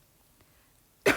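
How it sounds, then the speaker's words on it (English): A single short cough bursts out loud and close at the very end, after near silence, with someone coating and lamp-curing green gel polish on fingernails. "Sorry about the coughing."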